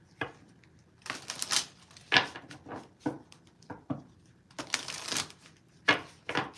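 Fairy Lenormand cards being shuffled and drawn nearby, quiet bursts of riffling and soft slaps of cards coming in uneven clusters, with brief pauses between them.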